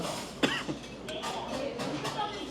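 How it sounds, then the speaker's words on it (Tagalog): A short cough bursts out amid casual talk, followed by a couple of smaller throaty sounds while people keep speaking. "Ba't may ubo ka na?"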